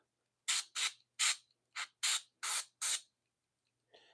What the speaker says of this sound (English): Wow, your airbrush is aggressive.